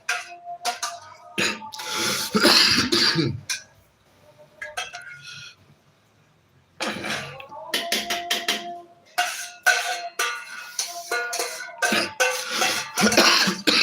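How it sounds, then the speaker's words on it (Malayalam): A few sharp coughs come in bursts alongside light clinks of dishes, with a quiet pause in the middle. "ചുമയുണ്ട്"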